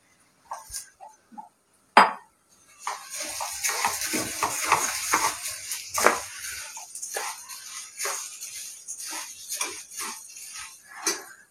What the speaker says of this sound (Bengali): চালটাকে 2 থেকে 3 মিনিট ভাজবো।